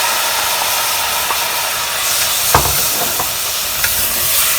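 Roughly chopped tomatoes frying with masala in a pan over medium-high flame, a loud continuous sizzling hiss with a few spoon knocks as the mixture is stirred.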